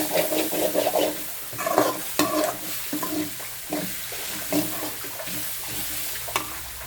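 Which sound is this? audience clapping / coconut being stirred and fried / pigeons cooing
coconut being stirred and fried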